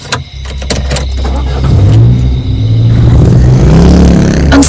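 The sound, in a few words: car engine driving, story sound effect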